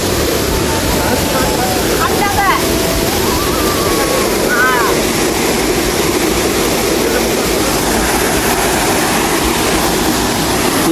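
Water pours steadily at Gauda waterfall, a loud, unbroken rushing wash filling the scene, with voices faintly audible over it.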